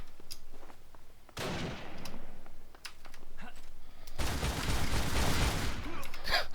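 Alpha 12 gunfire in the video game Darkest Days, dense rapid bursts of shots, quieter at first, then a loud sustained volley in the second half.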